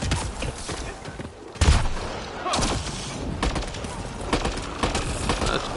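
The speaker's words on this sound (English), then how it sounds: "That's burst fire too." Burst-fire gunshots from a weapon in Mass Effect Andromeda crack out in short sharp volleys, a couple of loud bursts standing out over the busy ongoing game mix.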